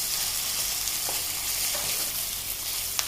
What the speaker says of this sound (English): salt for it to brown faster, for the onions to brown faster.